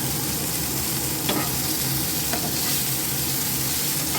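Potato and ridge gourd chunks frying with salt in a pan, a steady close sizzle with occasional stirring scrapes, no talking.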